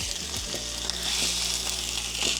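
A mackerel fillet sizzles steadily in a hot pan, a constant bright crackle with small pops scattered throughout, fairly close and with no voices.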